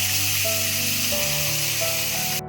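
Steady, loud sizzling of onions frying in hot oil, a continuous crackling hiss that cuts off abruptly at the end.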